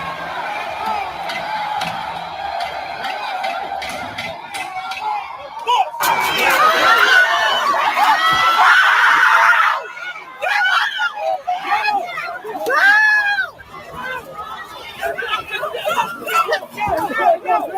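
A massive rioting crowd shouts and screams, with dense roaring babble, surging bursts of yelling and high-pitched screams at a distance, steady and loud throughout with brief changes in intensity.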